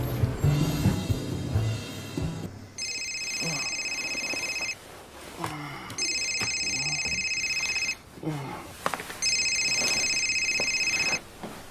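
Telephone ringing in three long electronic bursts with short pauses between them, loud and near, with a voice speaking briefly before the first ring and faint rustling in the gaps.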